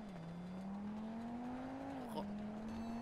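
A motorcycle engine idles and revs steadily indoors, a continuous droning hum whose pitch rises slowly, dips, then settles, with voices talking over it.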